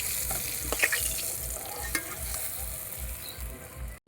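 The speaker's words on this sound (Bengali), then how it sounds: "আর বাকি মাছগুলো এইভাবে ভেজে তুলে নেব।" Sarputi fish frying in oil in a pan, a soft, steady sizzle with a faint repeating low thump and occasional light clinks, fairly quiet and unaccompanied by speech.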